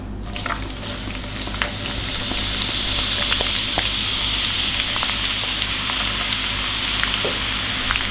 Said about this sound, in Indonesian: Minyaknya sudah panas, kita goreng